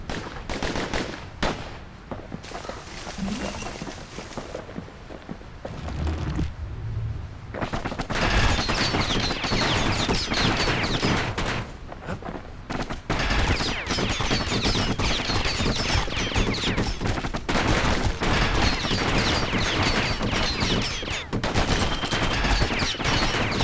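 Relentless rapid gunfire from pincushion enemies in the video game Bastion, dense and loud bursts crackling almost without pause, with a brief quieter gap early on before the barrage resumes.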